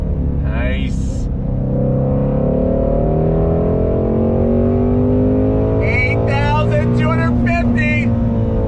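Shelby GT350R Voodoo V8 engine revving and humming steadily, a loud, sustained low drone with rising and falling harmonics throughout, while a voice exclaims briefly at the start and near the end.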